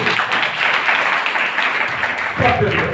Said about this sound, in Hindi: ताली बजाओ अंकल जी के